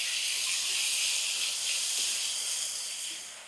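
Ginger-garlic paste frying in a pan, a steady close sizzle that holds evenly throughout and eases slightly at the end, with no talking.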